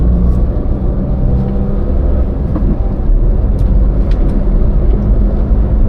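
Steady road and engine rumble of a Daihatsu Ayla small car cruising on a toll road between Tegal and Jakarta, a continuous loud drone with no voices over it.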